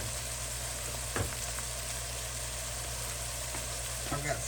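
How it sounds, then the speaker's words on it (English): Frying sizzle from each quiche ingredient, such as sliced onion and two kinds of peppers, sautéed separately in a pan for a beef and mushroom breakfast quiche: a steady close hiss with a couple of brief utensil scrapes. "When I do a quiche, I like to individually saute each ingredient by itself"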